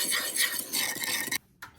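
Sugar, soy sauce, sweet sake and water are stirred together in a frying pan, making a steady scraping, swishing rub of utensil on pan that stops abruptly, followed by a short faint scrape.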